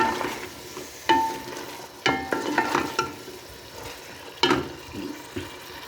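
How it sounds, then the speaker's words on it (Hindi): Potato pieces fry in a pan alongside chicken pieces, a soft continuous sizzle broken by several sharper scrapes and clatters as a spoon stirs them, close and with no talking. "आलू को भी अच्छी तरह फ्राई कर लेते हैं।"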